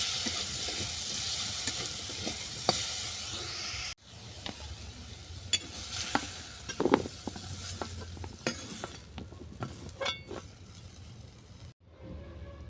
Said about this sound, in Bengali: এতে অল্প করে তেল দিয়ে নেড়ে চেড়ে আমি নামিয়ে নেব।